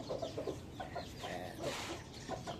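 A Boston Millionaire pea-comb hen clucking up close in short repeated bursts, with soft rustling in the background and no talking.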